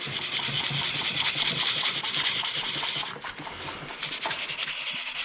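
Sandpaper is rubbed back and forth on the back side of a metal rotor from a stuck shifter, making a steady close rasping scrape that pauses briefly and resumes, with no talk.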